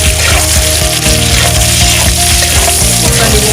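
Ginger fries loudly in a pan for laing, a dense continuous sizzle and crackle close up with rhythmic stirring underneath, no voices.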